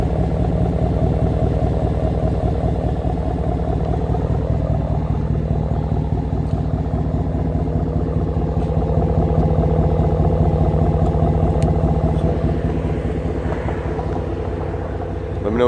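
A Dodge Ram Hemi V8 with a Y-pipe muffler delete idles with a deep, steady, loud rumble that keeps its even pulse throughout, running close by with no talk over it.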